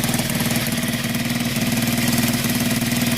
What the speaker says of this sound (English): That engine sounds really sweet